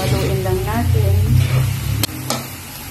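Fried tofu stirred in a hot pan, a steady loud sizzle with scraping stirs and two sharp utensil knocks near the end, with a voice talking over it.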